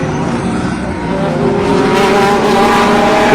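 Porsche and Corvette sportscars racing at Ryula Circuit in a sim racing endurance championship, their engines droning loudly and steadily and building louder as they accelerate.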